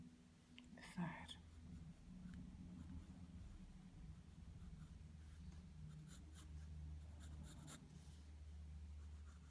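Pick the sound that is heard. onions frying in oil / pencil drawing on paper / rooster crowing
pencil drawing on paper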